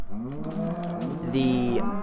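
A Minecraft cow moos loud and close in one sustained, wavering low call that shifts pitch near the end, with nothing else heard.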